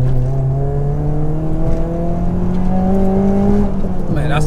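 A Ford Racing Puma's engine holds a loud, close, rising rev, its harmonic drone climbing steadily in pitch before dropping back at the end, with no talk over it.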